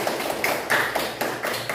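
Scattered claps from a class in an Indonesian school lesson greet a student's correct answer, a short run of quick, fairly faint hand claps with no voices over them.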